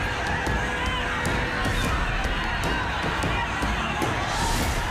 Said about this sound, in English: A massive crowd assembling in Mumbai's Bandra on Tuesday amid the rising coronavirus toll